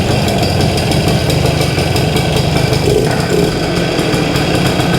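A vintage Kawasaki MT1-B motorcycle engine running steadily, a dense, continuous buzzing drone close by with no pauses and no talk.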